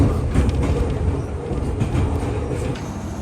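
Inside a train running toward Shimoyoshida near Mount Fuji, a steady low rumble of the moving carriage fills the space, with faint rattles and soft rhythmic knocks.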